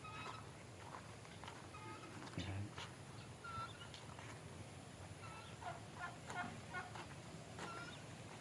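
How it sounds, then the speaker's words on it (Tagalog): A turkey gobbles in bursts against a steady outdoor background, with a few scattered calls from other fowl nearby. "Ito ang laking pabo."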